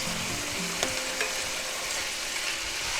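Mushrooms sauteing in a pan give a dense, even sizzle for a few seconds, with a couple of faint utensil clicks near the start and no voices.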